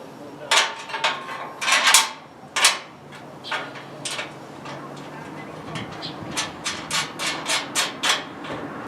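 Bolts being removed from the front bumper of a classic Pontiac Firebird, heard as close metallic scraping, rubbing and a run of rapid clicks like a ratchet wrench, with no voices.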